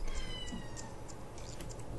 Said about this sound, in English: As Pearl just kind of meows at me.